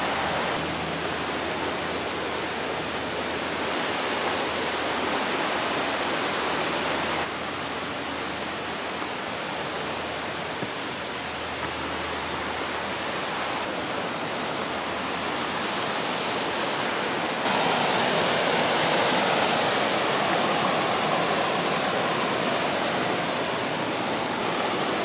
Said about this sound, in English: You can slide down that little waterfall right there real easy.